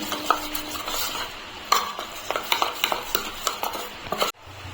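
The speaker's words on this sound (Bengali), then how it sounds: "ভালো করে আমি এখন মিশিয়ে নিচ্ছি" Ground lentil paste is mixed with black cumin seeds, salt and turmeric in a bowl, with quick repeated scrapes and taps of a utensil against the bowl, close and clear, ending abruptly.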